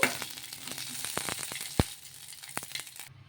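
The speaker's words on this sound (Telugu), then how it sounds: "ఇలా ఇవి వేయించేసుకోవాలి పచ్చిమిర్చిని." Green chillies frying in oil in a kadai, a steady soft sizzle with occasional crackles and pops, plus a sharp clink near the middle, fairly faint and close.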